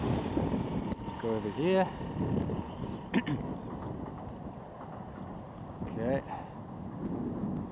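A 5th-scale HPI Baja 5SC Flux electric RC car's motor whines in rising bursts at full throttle, two clear pitch sweeps over steady wind noise, while a person talks briefly.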